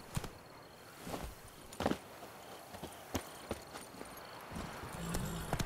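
Horse hooves galloping in The Witcher 3, sharp irregular clip-clop impacts at moderate volume over a quiet background, without speech.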